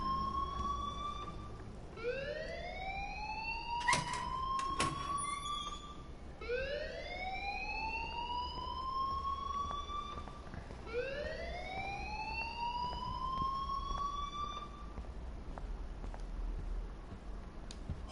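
An alarm in the video game Life is Strange wails in repeated rising siren sweeps, about four long whoops that climb and level off, loud and continuous with no talk over it.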